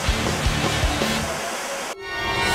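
Dense, continuous broadband rush of a waterfall at Mount Falls in Malabuyoc, close and loud, with a few low thumps early on and a brief dip near the end before the roar resumes.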